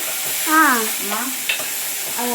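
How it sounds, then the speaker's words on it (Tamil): Tomato kuzhambu ingredients sauté in a pan with a steady, close frying hiss while a voice drifts over it in wavering tones. "இப்போ நல்லா வதக்கிடலாம்"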